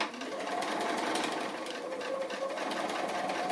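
A sewing machine stitches an appliqué bunny in a steady, continuous run, its motor whir and rapid needle patter holding close and even throughout with no voices.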